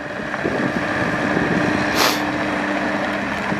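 A 2021 Bobcat T66 compact track loader, 74 horsepower, revving its engine up, a steady, fairly loud diesel rumble that swells and holds, with a brief hiss midway.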